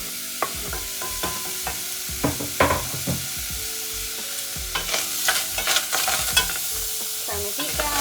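Sliced Bosc pears sizzle in a hot pan for cranberry sauce, with a steady frying hiss. Frequent spatula scrapes and clinks against the pan run throughout and grow busier in the second half.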